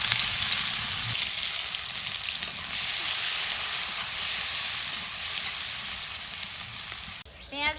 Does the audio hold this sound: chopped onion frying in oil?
yes